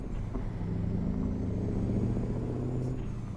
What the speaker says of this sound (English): I have a feeling it's probably the old Mack V8